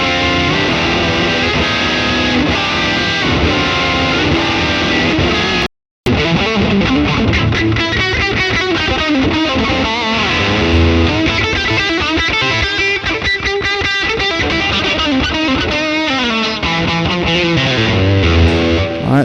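Electric guitar riffs through a new distortion pedal on an HX Stomp with Helix 2.90 firmware and a 1x12 Chromatica cab, loud and saturated, with chugging rhythmic chords and one brief dropout near the start.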